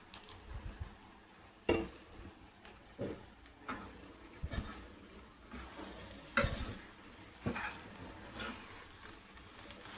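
Cooked rice being stirred and mixed with tamarind puliyogare paste, giving soft, close scraping and stirring with sharper spoon-against-pot knocks every second or two over a low background.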